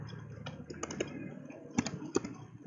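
Light, sparse keystrokes on a computer keyboard tap out a short phrase, a handful of soft clicks spaced irregularly over a quiet background.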